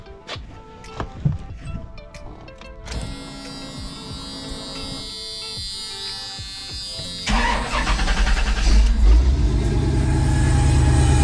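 A Chevrolet C10 pickup with a freshly swapped throttle body cranks with a few clicks and whirs, then catches and settles into a loud, steady idle that grows rougher and louder toward the end.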